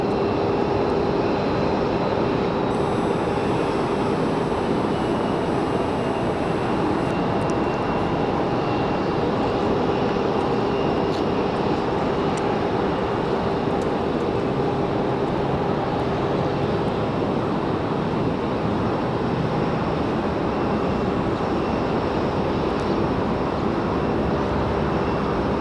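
An ATR turboprop airliner lands at Raleigh-Durham airport, producing a loud, steady, broadband engine roar that holds without a break for the whole stretch, with no voices over it.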